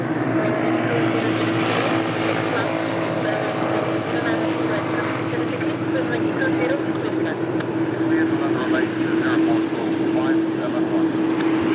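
Qatar Airways airliner departing Lisbon Airport for Doha, a loud continuous engine roar with a steady tonal hum running underneath and a voice talking throughout.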